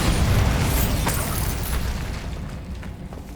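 A Bombarda blasting spell explodes in Hogwarts Legacy: one loud, deep booming blast that fills the clip, then a rumbling tail that slowly fades. No one speaks.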